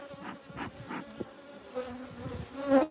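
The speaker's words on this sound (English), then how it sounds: "we're checking out the bees on the top bar" Steady insect buzzing of many honey bees in a top-bar hive during a midwinter inspection, a dense hum with some bees droning louder close by, no voices.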